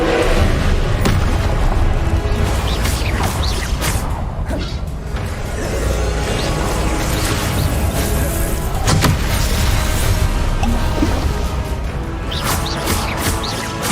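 Confringo fire spell blasts in the Hogwarts Legacy video game: repeated booming impacts and crashing bursts amid a busy combat soundscape, loud and near.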